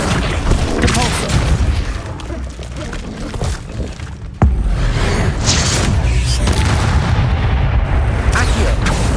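A Depulso spell cast in the Hogwarts Legacy video game, a sudden loud blast midway that lifts into a sustained rumbling, crackling wash over dense game noise, with a voice briefly present.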